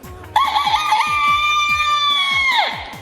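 A human voice imitates a rooster crowing in a Minang comedy act: one loud, drawn-out cock-a-doodle-doo with a rising start and a falling end, over a steady rhythmic backing beat.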